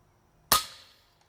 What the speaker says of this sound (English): Let's shoot at the far left one.